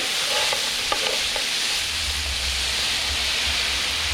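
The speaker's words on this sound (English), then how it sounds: "So now it's dry and it's kind of frying up now." Wild hog curry frying in a pan as the liquid cooks off, giving a steady, close sizzle with a soft stir or scrape near the start and a low rumble underneath throughout.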